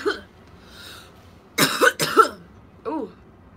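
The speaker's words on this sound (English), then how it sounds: "Y'all have them coughs where you just tighten up" A couple of sharp, harsh coughs burst out in quick succession, followed by a softer throat sound, close and loud against near silence.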